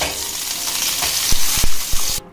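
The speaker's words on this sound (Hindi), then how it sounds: "मैंने एक नॉन स्टिक की पैन लिया है, इसे मैंने मीडियम फ्लेम पे गर्म कर लिया है।" Butter and refined oil sizzle in a non-stick pan on medium flame, a steady close frying hiss broken near the end by a few sharp clicks and taps of a utensil, with no voices.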